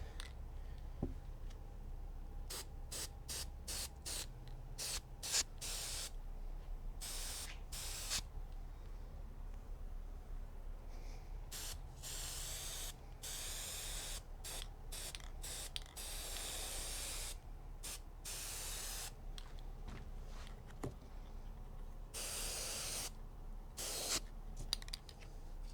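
Repeated bursts of aerosol spray hiss onto the fabric of a Chrysler 200 door panel, close and loud, in short and longer sprays separated by brief pauses, with no talk.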